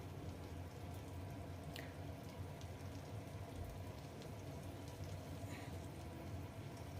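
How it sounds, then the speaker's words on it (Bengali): Water pouring into a pot of rice for Bengali Basanti pulao, a steady, continuous splashing wash that stays even and fairly close, with no talking over it. "এবার আমি যে বাটিটা করে চাল নিয়েছি ওই বাটিটা করে আমি 5 বাটি জল দেব।"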